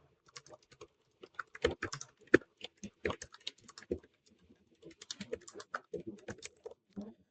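Quick, irregular clatter of keys on a computer keyboard during software development, close and fairly quiet, coming in uneven bursts with short pauses and no voice.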